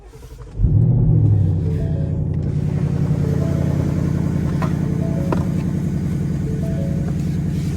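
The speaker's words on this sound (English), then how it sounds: "That's not even all the exhaust, is it?" Loud car exhaust rumbles at a car meet in Leesburg, kicking in sharply after a brief quiet start, then holding a steady, deep, throaty idle with a fine pulsing texture close by, with no voices.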